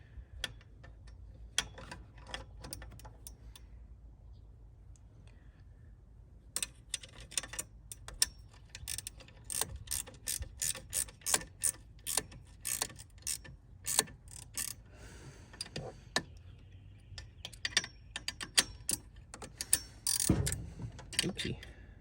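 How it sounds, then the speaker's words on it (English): A hand ratchet clicks in quick, crisp bursts as it tightens a 7/16 bolt on the transmission dipstick mount of a 6.7 Cummins diesel truck, the close, dry ticking starting sparse and then running in dense rapid strokes. "I'm going to tighten the size 7/16 bolt that goes to the dipstick mount"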